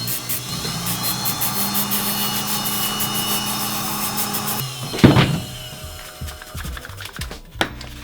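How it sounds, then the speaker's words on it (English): A handheld Dremel rotary tool grinds and shapes a climbing hold, giving a high steady whine for several seconds before it cuts off, followed by clattering handling sounds and a sharp knock. "we take a Dremel"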